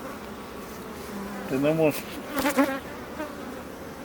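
Calm, relaxed honeybees crowding the frames of an opened hive give a steady, close, droning buzz, with a person speaking briefly over it.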